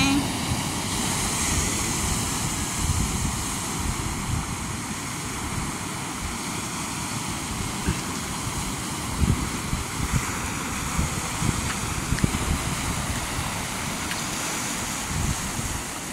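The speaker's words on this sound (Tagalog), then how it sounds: "Oh, ang alon." Sea waves wash onto the shore beside a seaside backyard, a continuous rumbling surf mixed with gusty wind buffeting the microphone, steady and close throughout.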